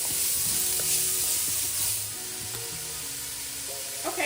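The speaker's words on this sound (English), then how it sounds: "I'm just going to saute that." Onion and garlic saute in a hot pan with a continuous bright sizzling hiss, close by, easing slightly after the first couple of seconds, with occasional light clinks and no talking.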